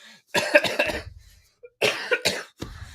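Two bursts of harsh coughing, close and loud, separated by a short quiet pause, with a faint throat noise in between.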